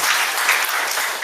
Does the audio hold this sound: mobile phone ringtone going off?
no